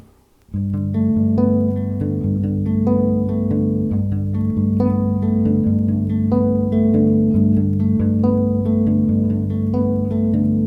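A steady, repeating fingerpicked pattern of plucked low strings on a bass guitar, notes ringing into each other in an even rolling rhythm, clear and close.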